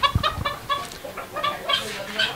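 Buff Polish chickens, an imported male and female pair, cluck and make short throaty calls in quick bursts, close by, with faint voices in the background.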